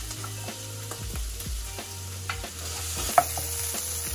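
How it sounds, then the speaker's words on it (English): Chinese cured meat and Chinese sausage stir-frying in a very hot oiled wok, giving a steady close sizzle broken by repeated scraping strokes of a spatula and one sharp clack near the end. "So next we're going to put in the Chinese cure meat and the Chinese sausage."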